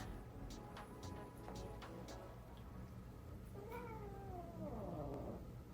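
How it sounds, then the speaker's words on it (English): A large female house cat lets out a drawn-out, wavering meow that rises and falls over a couple of seconds, close and fairly quiet, after some soft clicks and rustling. "But that's a pretty big cat."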